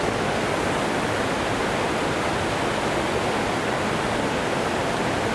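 A waterfall on Vancouver Island roars as a loud, steady wash of rushing water with no breaks or other sounds.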